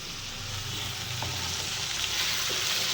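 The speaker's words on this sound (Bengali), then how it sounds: "এখানে কড়াইয়ের মধ্যে পেঁয়াজ রসুন কাঁচামরিচ আর টমেটো একসাথে কষাচ্ছি মশলাটা" Onion, garlic, green chilli and tomato sizzle steadily in a hot wok, a dense continuous frying hiss with a couple of faint stirring clicks, close and even throughout.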